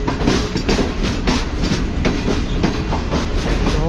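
A Green Line Express train pulls out of Lahore Junction, with loud, continuous rumbling and rhythmic clickety-clack of wheels over rail joints heard from inside the carriage.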